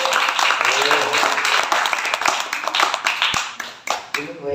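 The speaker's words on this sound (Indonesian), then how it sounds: "Baik, tepuk tangan dulu." A small group claps their hands in a classroom-like room, with sharp, close, uneven claps that thin out toward the end as voices murmur underneath.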